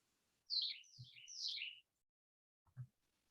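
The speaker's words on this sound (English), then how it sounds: "I've had two cardinals counter singing on either side of me all morning." Cardinals counter-singing outdoors give a short burst of bright, falling whistled phrases, fairly faint and at a moderate distance, followed by a quiet pause and a small low knock.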